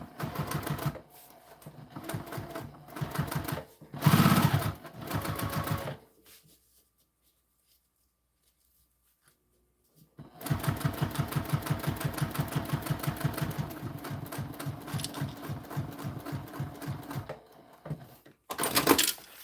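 A sewing machine bastes layers of fabric together close to the bottom edge. It runs in rapid stitching bursts, goes quiet for a few seconds, then resumes in a long continuous run nearby.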